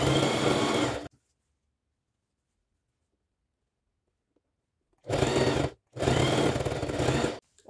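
A sewing machine stitches fabric triangles onto a tea towel edge, with one loud burst of running, a long silence, then two more steady runs close together, all near and loud.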